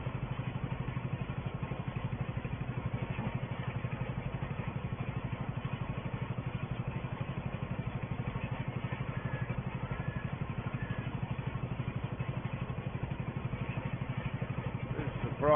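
A tractor pulling a small grassland roller over pasture, its engine chugging in a steady, low, muffled rhythm that runs evenly throughout at moderate distance.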